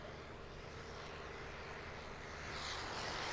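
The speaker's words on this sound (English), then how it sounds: "You can hear that rotary engine spinning." Steady droning rotary engine of a Sopwith Pup World War I biplane at an air show, a broad, rumbling tone that swells slightly louder near the end, no voices present.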